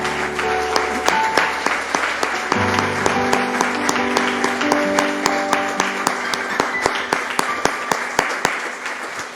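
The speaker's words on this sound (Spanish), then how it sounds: "Le damos un aplauso al Señor, hermanos." A church congregation claps for the Lord after a closing prayer, steady applause with individual sharp claps standing out, over sustained organ or keyboard chords that shift partway through.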